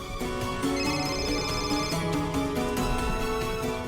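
A phone ringing with a steady, repeating electronic ringtone melody, moderately loud and continuous, with no voices over it.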